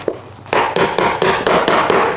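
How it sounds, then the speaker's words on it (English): Hammer strikes driving the long wooden uprights of a potted plant stand into place, about eight sharp, loud taps in a steady rhythm, close by. "Hammer them into place."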